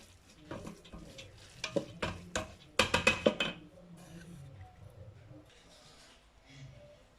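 Cooked angel-hair vermicelli is tipped back into a salad bowl with a quick run of sharp clinks and scrapes of utensil against the dish, followed by softer shuffling and stirring.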